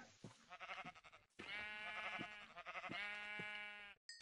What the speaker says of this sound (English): let's go ahead and Hear that sheep.